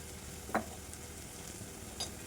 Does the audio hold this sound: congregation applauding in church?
no